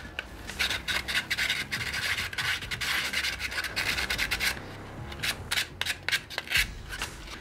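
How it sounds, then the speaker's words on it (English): Sandpaper scrubbing a resin Forge World model part, rapid back-and-forth rasping strokes close up, with steady bursts that briefly pause midway and then resume, no voices. "you just find the bit that you want to sand off and you just kind of go to town on it"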